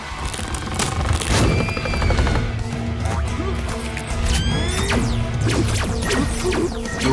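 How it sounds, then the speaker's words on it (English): Ray gun blasts and crashing impacts fill an animated battle between Scooby-Doo and Courage the Cowardly Dog, with zapping sweeps and dense layered hits running loud and continuous throughout. "The ray gun."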